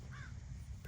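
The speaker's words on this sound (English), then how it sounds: "I'm gonna wait till the next crow call." A crow gives a single harsh caw, clear and fairly close, with a second call starting at the very end over low rumbling background noise.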